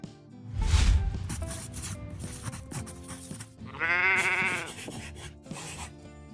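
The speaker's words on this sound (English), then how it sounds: "Sheep." Sheep bleating, several wavering calls, one long and prominent near the middle, close and clear with some rustling between them.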